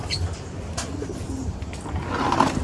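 Pigeons coo softly close by, a few low throaty calls over faint background noise.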